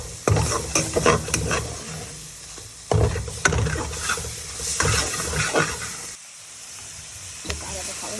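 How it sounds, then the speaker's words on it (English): Cauliflower for gobi aloo being stirred into hot spices in a pan, with a steady sizzle and hiss and repeated scraping strokes of the spoon, close and fairly loud, and no talking over it. "Just add the cauliflower. Slowly stir this in."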